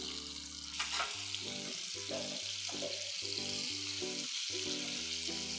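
Prawns for prawn popcorn deep-frying in hot oil, dropped in one by one, give a steady close sizzle and crackle over a continuous tonal music bed.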